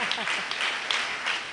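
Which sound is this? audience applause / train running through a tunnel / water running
audience applause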